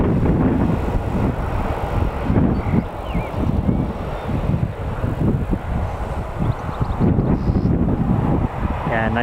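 Airliner landing at Newcastle Airport, a steady broad roar of engines and rushing air with wind buffeting the microphone throughout, close and loud.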